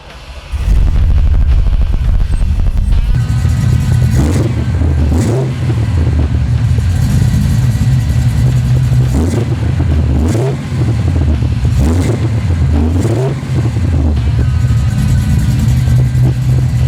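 A Pro Touring Camaro fires up loudly and settles into a rough idle, then is revved repeatedly in a series of rising and falling surges over the idle, close to the microphone.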